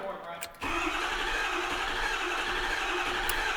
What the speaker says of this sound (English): Let's go ahead and see if we get a cranker here.